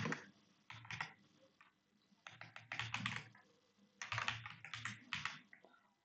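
Rapid bursts of keystrokes from code being typed on a computer keyboard while writing a C print statement, clicking in uneven clusters with short pauses between them, close and clear with no voices.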